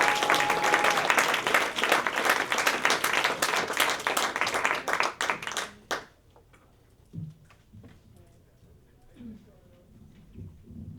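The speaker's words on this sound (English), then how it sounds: "Come on, clap it up, clap it up." A crowd claps and applauds loudly for several seconds, then the applause cuts off abruptly into near silence with a few faint sounds.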